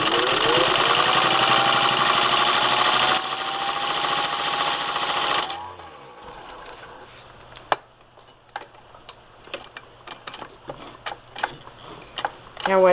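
A 1952 Singer Model 15-91 sewing machine runs steadily, then its clutch wheel disengages, the motor hum stopping and giving way to scattered light ticks and clicks.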